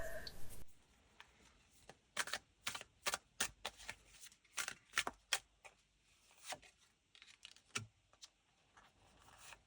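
Tarot cards from a Kalevalainen deck shuffled and picked by hand, a quick run of crisp riffling snaps and soft slides in bursts with short pauses, close and fairly quiet.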